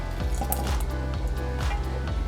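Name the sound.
mesquite pulp juice poured into atole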